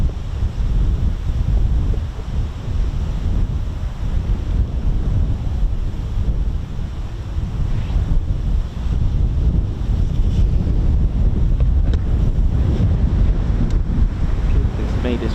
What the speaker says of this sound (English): Goodness me, this wind is atrocious.